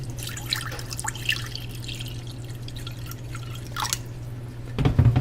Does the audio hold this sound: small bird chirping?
no